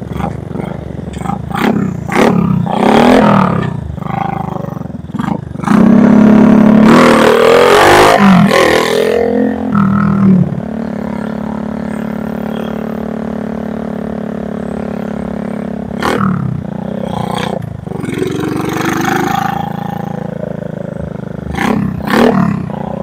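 A Honda Supra motorcycle engine is tuned at the carburetor, bursting into short sharp revs and then a long loud sustained rev before dropping to a steadier idle with more quick throttle blips, close and dominant.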